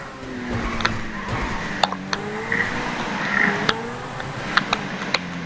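Car driving through checkpoints in GTA V, a steady engine drone with repeated short tire squeals and skids, no talking.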